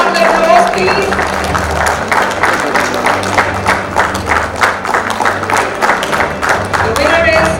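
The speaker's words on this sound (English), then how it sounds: "Please, a big round of applause, please." Applause at an awards ceremony for a rewilding award, with rhythmic clapping rising and falling in pulses over a low background hum for about seven seconds.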